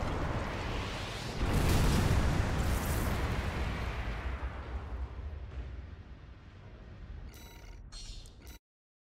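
Missile barrage explosions in Armored Core VI, a heavy rumbling blast starting near two seconds and rolling on loudly for several seconds before tapering, with sharp whooshing bursts near the end.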